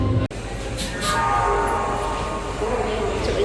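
Inside a moving local train bound for Howrah station, a loud continuous rumble and rattle of the carriage fills the scene, with a sharp brief knock near the start and faint tonal whines above the steady wheel noise.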